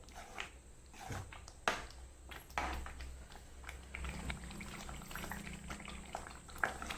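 A thick garlic pickle mixture bubbles and sputters steadily in a pan, with soft popping and occasional louder pops, close by and without talk.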